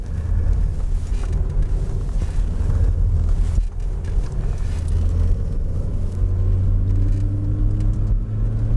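Engine rumble from inside a car driven hard through a slalom course, a steady loud drone with wind buffeting and a rising engine tone toward the end, with no voices.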